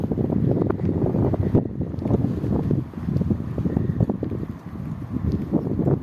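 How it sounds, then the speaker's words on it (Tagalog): Steady, blustery, cold wind rumbles across the microphone for the whole stretch, low and buffeting with a few gusts and brief dips. "Napakalamig po ng hangin."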